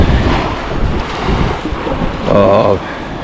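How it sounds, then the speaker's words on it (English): Strong wind gusting up to 40 miles an hour roars across a northeast Florida beach, buffeting the microphone in a loud, steady rush with surf washing beneath and a brief voice near the end. "It's blowing up to 40 miles an hour."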